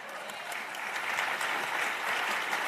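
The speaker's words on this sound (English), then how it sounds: "Every time you clap, you're giving encouragement for their ideas" Sustained audience applause at a global forum event, a dense, steady wash of clapping that holds at even loudness throughout without speech over it.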